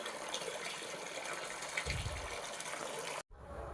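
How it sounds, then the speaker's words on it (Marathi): Water gushing steadily to fill a bath, a continuous close rushing pour that cuts off abruptly near the end and then resumes. "मी भरतो आता फटाफट पाणी."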